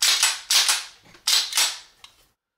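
A Commander 1911 pistol slide racked twice, each a sharp metallic clack-clack of pull back and snap forward, close and crisp, followed by a faint small click.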